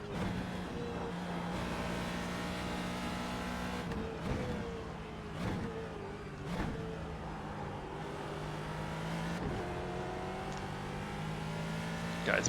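Ford GT2 race car in the iRacing sim on the Ringmeister track, a steady loud engine drone with rising and falling pitch as it accelerates and shifts gears, with no voices.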